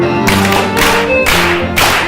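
A group of people clapping together at a regional school district meeting, broad bursts of claps arriving in a steady rhythm roughly every half second, loud and close with a roomy crowd feel.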